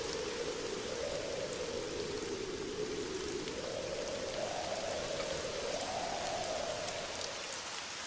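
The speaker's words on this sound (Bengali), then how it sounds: "সেই সকাল থেকে বৃষ্টি হয়েই চলেছে" Steady rain falls in an animated village flood story, a constant close hiss of drops on surfaces with no pauses and no voices.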